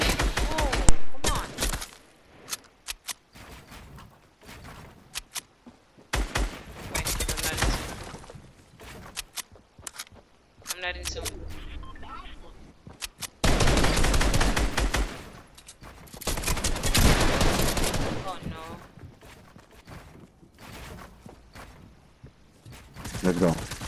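Rapid bursts of gunfire in Fortnite, loud and close, with repeated automatic volleys and single shots spread through the scene, mixed with excited players talking over the action.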